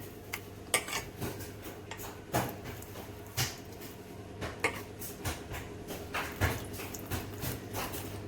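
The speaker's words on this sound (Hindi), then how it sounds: "ये देखो अब इस सारे मक्खन को इकट्ठा करके डोंगे में निकाल लूंगी।" Spoon scraping and tapping as freshly churned butter made from cream is gathered and scooped into a serving bowl, with irregular close clinks of utensil on dish and soft background rustle.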